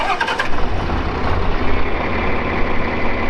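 A John Deere tractor engine running nearby on a farm, a loud, rough low rumble that holds steady with slight surges after a brief higher clatter at the start, and no speech.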